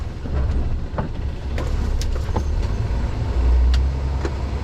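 A truck rumbles past on a narrow country road, a steady low engine drone with a swelling pass near the end, heard from inside a vehicle towing a trailer.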